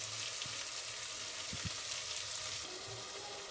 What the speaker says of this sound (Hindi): अब मैं इसके अंदर आलू डालती हूँ, आलू डाल के भून लेते हैं